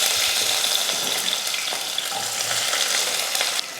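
Sliced onions sauté in hot oil with fennel seeds and curry leaves in a pan for a roadside-style empty kurma, giving a dense continuous sizzle with faint stirring scrapes, close and loud throughout.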